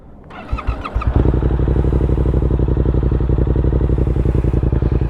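A Yamaha R7 motorcycle fitted with a Yoshimura R-77 exhaust starts up, then settles into a loud, steady, rapidly pulsing idle heard close up, with no one speaking.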